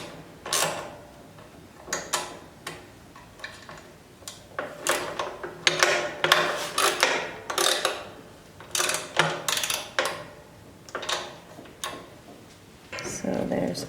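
Screws being tightened on a door hinge of a J.A. Roby Gemini wood stove, giving irregular metallic clicks and ratcheting taps close by, while someone talks between the sounds.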